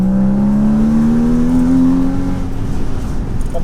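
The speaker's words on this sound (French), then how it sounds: "C'est que c'est un moteur qui chante." A Porsche Boxster 2.7, the smallest engine in its range, revs hard in sport mode, its loud, rising engine note climbing steadily for a couple of seconds before settling into a rougher, busier drone. No voices.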